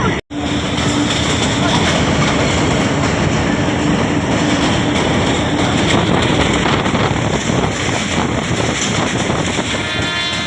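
A train departs Kot Najibullah railway station, heard from on board as a loud, steady rumble of wheels and wind buffeting, with a sharp knock at the start.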